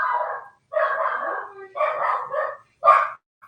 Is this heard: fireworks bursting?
no